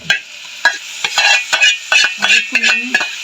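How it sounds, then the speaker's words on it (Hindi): Goat brain is mixed into spices in a pan, a spoon clacking and scraping in quick repeated strokes over a light sizzle. "अब इसको मैंने अच्छी तरह मसाले में मिक्स करना है।"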